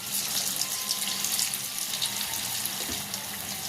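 Vegetable chicken pakoras made with thickly cut cabbage fry in hot oil on a low flame, giving a dense, continuous hiss that stays loud and steady throughout.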